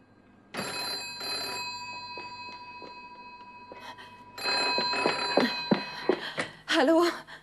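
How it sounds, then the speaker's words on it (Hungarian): Ringing telephone bell in bursts, separated by a pause with a few faint knocks, the rings loud and close with some voice at the end. "Úgy hallom, csörög a telefon."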